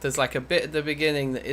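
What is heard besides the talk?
No everyday noises stand out.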